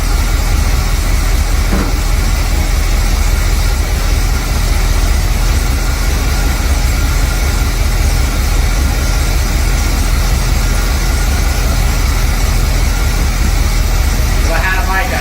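A 1975 Chevy C3 Corvette, revived after 15 years, idling with a loud steady low rumble and an even pulsing beat throughout, heard close up.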